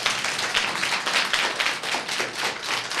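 Children in a Quran course classroom clapping together in a fast, continuous burst of applause that stays dense and lively throughout, close by and loud.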